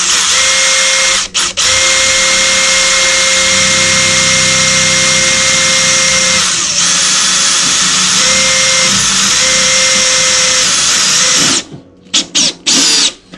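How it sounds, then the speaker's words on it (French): A power screwdriver drives screws through plasterboard into a wooden joist, a loud sustained close whine with brief stops, then short stuttering bursts at the end as the screw seats. "Donc je visse en direct pour attraper la solive."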